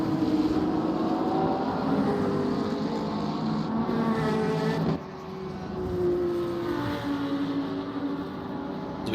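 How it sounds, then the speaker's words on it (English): GT3 race cars at Sebring in a sim-racing series roar along the back straight, a steady loud engine drone with rising and falling harmonic tones as cars pass, briefly dipping midway. "As we hear the cars roaring down the back straight."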